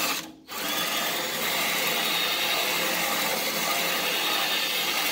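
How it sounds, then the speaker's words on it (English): A power drill stripping paint whirs continuously after a brief start, a steady mechanical grinding hum with a gritty scraping texture, fairly close. "And you can also use a drill"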